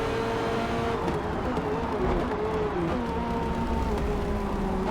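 A Porsche race car in Forza Motorsport at the Barcelona circuit roars steadily at high revs, its engine note rising and shifting as it brakes deep into a corner, loud and continuous throughout with other cars' engines mixed underneath.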